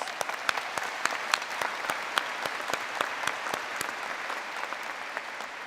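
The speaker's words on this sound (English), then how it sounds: "So please join me in giving them a big round of applause." Sustained applause from a graduation ceremony crowd honoring faculty and staff, a steady, fairly distant bed of many hands clapping with occasional crisp individual claps, no talking.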